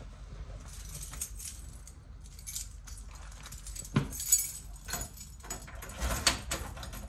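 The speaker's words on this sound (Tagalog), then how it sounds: "Susi ko." A bunch of keys jingles and clinks in bursts at a door in a Tokyo apartment, faint and close, with a door-lock clatter among the jangles.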